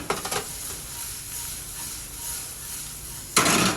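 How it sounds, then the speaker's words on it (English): Julienned white onion sautés in a hot pan with a steady, close sizzle. A few clattering stirs come near the start and a louder burst of hissing near the end. "we're just going to saute that down a little bit"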